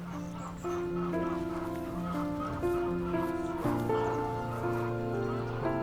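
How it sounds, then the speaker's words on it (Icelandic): Chickens cluck and squawk in a rural home setting at Maseno, Kenya, with a bird chased on foot, heard under steady tonal music with faint voices. "Kjúklingurinn eltur uppi á hlaupum og honum slátrað."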